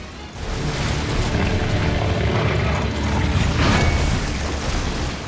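Bombs thrown in the video game Nioh burst into a dense, loud roar of explosions and rumbling debris, one sustained blast after another, with a brighter burst partway through.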